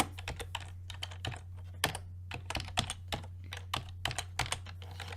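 Rapid, uneven clatter of keys on a computer keyboard while code is typed for a 2.5D platformer project, close and clear over a steady low electrical hum, with no talking.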